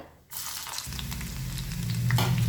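Chopped garlic for a Kerala gooseberry pickle drops into hot oil after a short quiet moment, bursting into a loud, steady close sizzle that builds over a couple of seconds.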